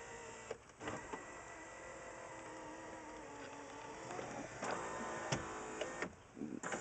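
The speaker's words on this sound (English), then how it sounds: "All the windows work." Car power window motor running as the driver's side glass moves, a faint steady whine inside the cabin with a few soft clicks and thumps near the start and end, no voices.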